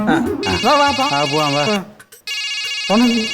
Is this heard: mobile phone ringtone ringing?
yes